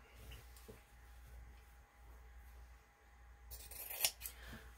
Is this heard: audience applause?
no